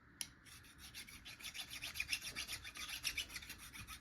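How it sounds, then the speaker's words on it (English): A small hand file rasps rust off the ignition coil of a Husqvarna 480CD chainsaw in quick, rhythmic back-and-forth strokes, quiet but close, with no talking. "Just gonna take a little file and clean some of this rust off."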